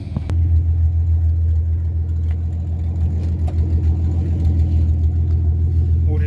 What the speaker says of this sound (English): I'll just call it starting every single vehicle at my dad's house